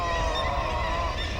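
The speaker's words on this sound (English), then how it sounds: "there are thousands of birds, many, many puffins." Puffins calling at a crowded seabird colony, a dense, continuous wash of overlapping honking and growling calls, loud and sustained.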